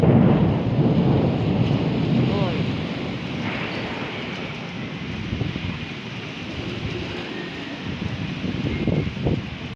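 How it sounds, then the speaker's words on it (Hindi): Thunder rolls in a long, low rumble during a heavy rainstorm, with a dense hiss of rain and some wind filling the whole stretch at a steady, fairly loud level. "बस फिर एकदम से ही बादल आ गए और बादल गरजने लग गए"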